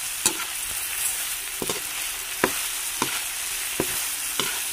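Tofu and chicken are stirred in a sizzling pan, a steady fry hiss broken by about seven sharp utensil scrapes and clacks at uneven intervals, with no one talking.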